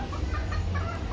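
A three-year-old rooster clucks on a rooftop terrace, giving a short run of soft, close clucks over low background rumble, with no voices.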